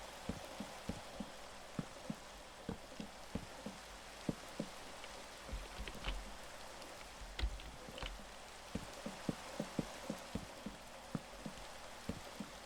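Rain falling in the Minecraft video game, a dense steady hiss of rainfall with scattered louder drop ticks and a few soft low thumps, with no talking.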